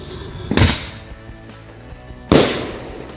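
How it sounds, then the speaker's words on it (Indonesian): Two sharp launch bursts from a ball firework launcher (mercon bola) about two seconds apart, each a loud whoosh-pop that fades quickly into quiet. "Oke, kita lihat hasilnya, mercon bola launcher."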